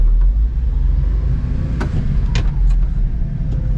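A 1998 Honda ACTY mini truck's small engine pulls away in first gear with a steady, close rumble and a few light clicks and knocks over it.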